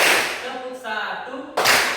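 Junior high school students in a classroom clap together in short, loud bursts at the start and end, with a voice speaking in the pause between them.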